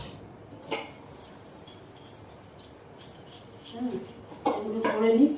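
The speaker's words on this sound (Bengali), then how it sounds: "আমি এখন বাসনগুলো ধুচ্ছি" Dishes being washed by hand at a home kitchen sink, with scattered clinks and rattles of pots and utensils that grow busier and louder toward the end, under running-water hiss and a voice talking in the background.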